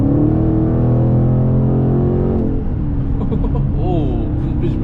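A bagged 2022 widebody Scat Pack car accelerating hard, its loud engine drone climbing steadily in pitch from inside the cabin, with excited voices talking over it near the end.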